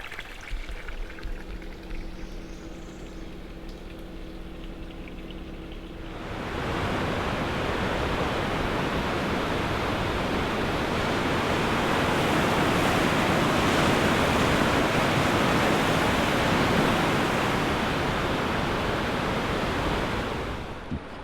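A waterfall in remote wilderness roars as a dense, steady rush of falling water, loud and close once it cuts in after a quieter stretch of engine-like hum, continuing unbroken with no talk.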